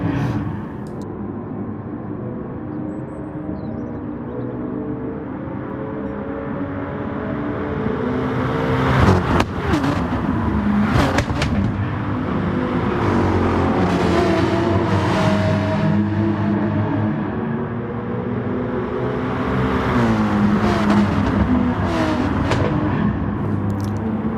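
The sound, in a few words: Mercedes and Porsche race cars in a sim racing video game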